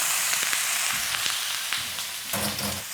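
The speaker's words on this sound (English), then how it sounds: "You want to toss in your potatoes" Potatoes hit a hot pan and sizzle loudly, with scattered clatters and scraping as they are tossed and stirred, and a bright burst of frying near the end; no talking.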